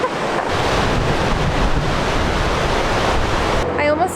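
Waterfall at Yoho National Park roars as dense, steady spray and mist close by, a continuous broadband rush with wind buffeting the mic, briefly dropping away at the end.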